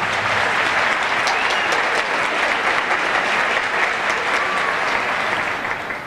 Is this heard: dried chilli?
no